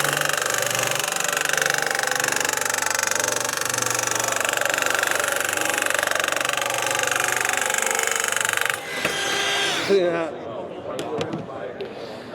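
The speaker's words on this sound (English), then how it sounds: "Got the N200 nibbler. This is a 14-gauge capacity tool." A Trumpf N200 handheld nibbler cuts through 16-gauge sheet metal with a steady, loud, continuous buzzing chatter. After several seconds it stops, leaving a few scattered clanks and handling noises.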